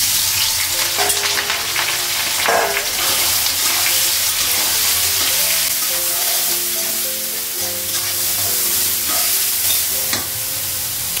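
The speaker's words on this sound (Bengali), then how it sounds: "আগে সয়াবিনটা ভেজে নিব।" Soybean chunks fry in oil in a hot wok, giving a steady, close, unbroken sizzle with faint stirring, and no voices throughout.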